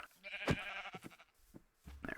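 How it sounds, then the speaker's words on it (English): Sheep bleating in the video game Minecraft, several short wavering bleats at close range with small pauses between them, one louder cry early on, heard alone. "Sheep."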